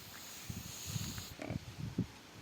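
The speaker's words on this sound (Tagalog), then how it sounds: "yan yung alaga ng kapatid ko guys na babae kanyang baboy yan" A mother sow with her piglets grunts and oinks softly in low, irregular snorts over a steady background hiss, faint and fairly close.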